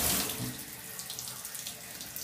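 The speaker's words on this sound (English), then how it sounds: "And of course a shower." Hot water from a hotel bathroom shower runs in a steady hiss, fairly faint and even throughout, with a small splash at the start.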